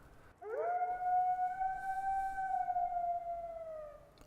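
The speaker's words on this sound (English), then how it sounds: "Hello, Mr. Wolf." A single wolf howl from theHunter: Call of the Wild at Askiy Ridge, rising quickly into one long, steady, close tone that holds for several seconds and slowly fades, with no talk over it.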